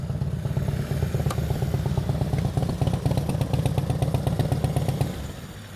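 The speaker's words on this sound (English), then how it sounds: "Listen to the bike. No blipping, no quick work." A motorcycle engine runs steadily and close while the bike is ridden smoothly through a lean, with no throttle blips, its low pulsing drone holding even for about five seconds before easing off.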